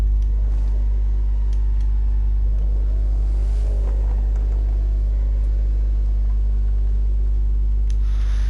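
A Mercedes-AMG car engine in The Crew 2 racing game holds a steady, deep rumble with a constant low drone for the whole stretch, with no voices over it.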